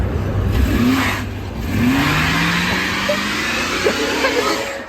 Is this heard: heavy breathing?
no